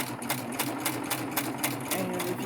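A Baby Lock Triumph overlock serger runs a test stitch, its rapid, even mechanical chatter close and steady throughout.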